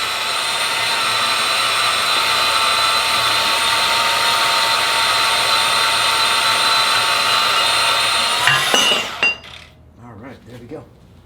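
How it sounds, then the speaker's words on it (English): An angle grinder cuts into a steel tube on a Ford 8.8 axle held in a vise. A loud, steady, close whine runs for about nine seconds, then cuts out and leaves quieter handling noises. "I'll come in with the angle grinder and just cut inside that line on that side"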